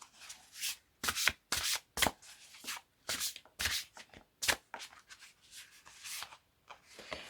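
Tarot cards being shuffled by hand: a quick run of crisp, papery riffles and slaps in uneven bursts, close and clear with no talking.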